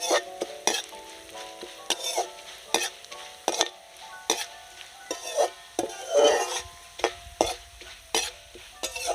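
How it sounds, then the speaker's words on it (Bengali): Flattened rice fries in a pan with spices while a spatula stirs it in regular scraping strokes, about two a second, over a low sizzle; the sound is close and clear, with no voices. "চিড়ে ভাজা প্রায় হয়ে গেছে বন্ধুরা"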